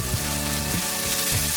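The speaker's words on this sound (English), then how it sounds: "I see stuff on high heat sizzling away like this" Lamb pieces sizzle hard on high heat in a wok, a steady dense hiss with a few brief clatters of stirring, close and continuous.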